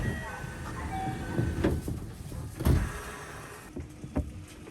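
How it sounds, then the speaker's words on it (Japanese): Hapi-Line Fukui train doors at Awara-Onsen station slide shut with a couple of dull thumps over the hum of the train and station background, with voices faintly present. "乗降が完了したらすぐに扉を閉めます。"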